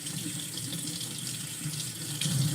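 Kitchen tap running steadily into a sink while chicken thighs are rinsed, a continuous close wash of water that swells slightly at the end, with no talk.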